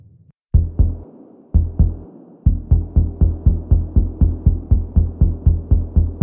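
Convolution reverb noise tails from the Evolution Devastator Warzone sound library, a series of deep throbbing hits, sparse at first then in a steady rapid pulse, each with a short decaying tail, loud and dry with no talk.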